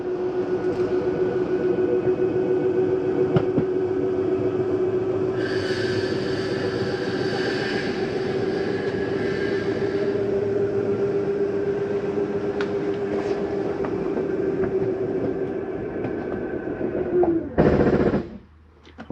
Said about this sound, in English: that is just the slide mechanism saying I'm in all the way